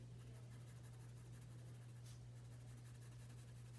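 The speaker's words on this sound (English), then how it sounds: "shade in those lightly all in the same direction of my pencil lines." Graphite pencil shading lightly across paper in one direction for a bird drawing, a soft continuous scratchy rasp with no talk, steady and close over a constant low electrical hum.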